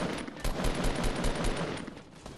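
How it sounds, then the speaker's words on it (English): Fortnite gunfire: a dense, continuous rattle of automatic shots from a firefight, loud and sustained for the whole stretch, with no voices on top. "Yo, where are they shooting from?"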